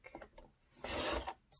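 A paper trimmer slicing through a sheet of paper, a short close rasping scrape lasting about half a second after a few soft handling taps, with a brief second scrape at the end.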